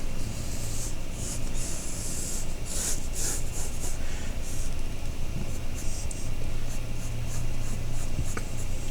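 Pencil scratching steadily across paper while sketching a classic vase outline for a coil pot template, a continuous close, dry rubbing texture with brief strokes and no talking.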